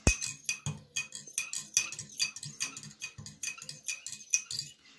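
A spoon stirs a mix of turmeric water and washing powder in a container, clinking steadily against the sides in quick repeated strokes, close and fairly crisp with no talk.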